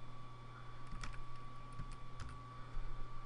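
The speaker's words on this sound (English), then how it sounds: "At the bottom, type in .husham." Keystrokes on a computer keyboard while entering a repository address during a Kodi add-on install: a few light, irregular clicks over a steady electrical hum, close and fairly faint.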